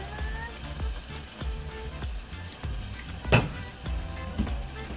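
Canned mackerel sizzles in a hot pan with a steady frying hiss, occasional soft crackles and one louder pop, heard close and moderately quiet beneath a low hum.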